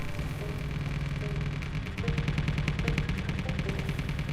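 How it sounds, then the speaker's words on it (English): Rockets fire in the game Space Engineers as a rapid, continuous mechanical rattle of launches over a steady engine rumble, growing louder partway through. "Your rockets are going."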